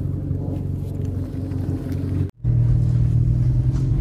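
Seat Ibiza Cupra 6J on a road test, engine droning steadily from inside the cabin, cutting out briefly before resuming louder with a strong low hum.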